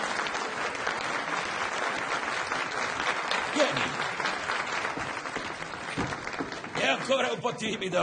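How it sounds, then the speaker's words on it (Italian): An audience claps warmly to welcome a shy young man introduced as a company junior, a steady wash of applause running throughout while someone speaks over it. "Fategli un bel applauso."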